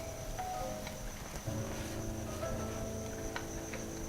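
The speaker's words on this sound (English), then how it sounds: "I hear crickets outside." Crickets chirping outdoors at night, a steady high trill with a continuous hum of insects beneath, heard faintly in the background.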